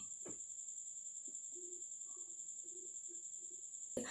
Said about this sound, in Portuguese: tem um grilo aqui dentro do quarto